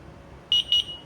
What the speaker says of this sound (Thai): เขาก็จะไปแพริ่งกันเองจะมีเสียงดัง 2 ปิ๊บ